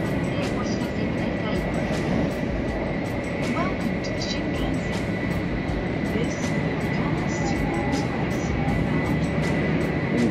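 The interior of a Japanese bullet train running from Hiroshima to Onomichi gives a steady, loud rumble and hum throughout, with faint clicks and a voice talking over it.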